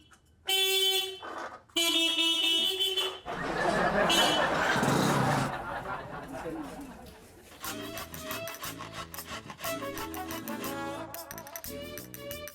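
Loud, repeated vehicle horn blasts sound in bursts, separated by stretches of noisy street bustle and murmuring voices.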